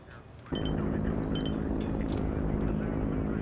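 A transport plane at an air base gives off a loud, steady engine roar that starts abruptly and holds constant, with wind rushing across the microphone throughout.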